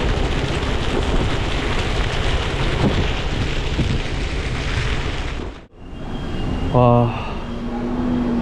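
Heavy rain pours in Taitung, Taiwan, a loud, constant roar of rain lasting several seconds. It cuts off abruptly to a quieter indoor scene with faint tones and a brief voice.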